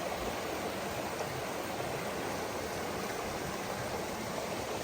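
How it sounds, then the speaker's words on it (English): Mountain stream flowing beside a hiking trail on the Appalachian Trail near Bennington, Vermont, a steady broadband rushing of water, constant and fairly faint with no voices. "Well, we are passing the mountain stream slash creek of the day."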